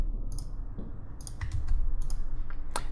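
Mouse clicks during a file export in Illustrator design software, several sharp, close clicks spread unevenly over a few seconds against a low hum, with no talking.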